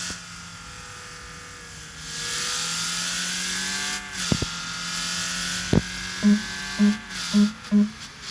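A car in the Car Parking Multiplayer 2 video game drives off and accelerates, its synthetic engine tone rising and dropping through gear shifts, followed by several short rhythmic pulses near the end.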